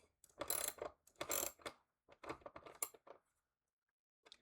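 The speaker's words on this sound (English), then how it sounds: "So I'm using like the oldest ratchet I have" An old ratchet wrench clicks through several bursts of turning up close, each run of rapid pawl ticks separated by short pauses, then a faint final click after a gap.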